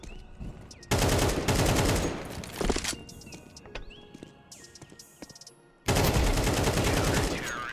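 Loud bursts of rifle spray fire in Counter-Strike 2, one sustained volley at the start and another near the end, with scattered single shots and game effects in between.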